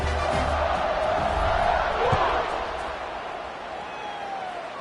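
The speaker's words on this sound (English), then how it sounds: "this crowd now ready to get behind them" Stadium crowd noise from the College Football 26 video game, a broad steady roar of a stadium crowd ahead of a kickoff, loudest early and easing slightly, with a few thumps and no speech.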